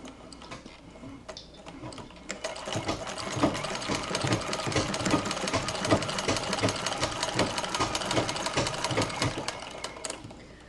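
A Singer treadle sewing machine with a coil belt runs steadily, its needle ticking in a fast, even rhythm at close range, with no voices.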